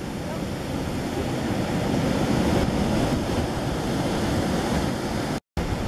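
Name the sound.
ocean waves at Bali surf beach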